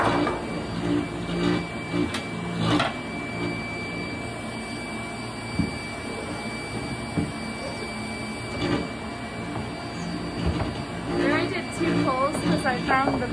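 A screen printing vacuum table runs with a steady mechanical hum and a high constant whine, broken by scattered clicks, thumps and handling noises from a hand-drawn stencil setup.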